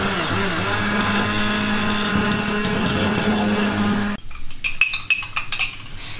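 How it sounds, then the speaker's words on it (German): An immersion blender whirring steadily in a pot of onion sauce for about four seconds, then stopping, followed by light clinks and clatter of utensils. "mit dem Mixstab rein. Die mixen wir mal kurz durch, damit die Zwiebelstücke weg sind."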